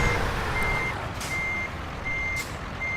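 A truck in American Truck Simulator backs up, its reversing alarm giving three evenly spaced beeps over a steady engine rumble.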